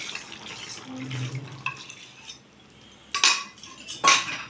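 A spoon stirs cornflour slurry into chili chicken in a pan, making soft scraping and wet clinks, then two sharp metallic clatters close by toward the end.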